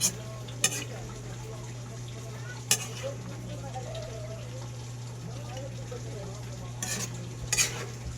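Pancit canton guisado being stir-fried in a pan with its added ingredients: a steady low sizzle runs throughout, broken by a few sharp utensil clinks and scrapes near the start and toward the end.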